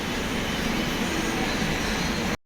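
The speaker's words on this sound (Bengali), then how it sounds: "এই ট্রেনটা গেল এটাতে এলাম আর ওইদিকে যাচ্ছে আপনার নিউ গড়িয়ার দিকে" A Kolkata Metro train pulls away from Dum Dum station, a steady, loud broadband rumble and rush of wheels and motor with no talk over it.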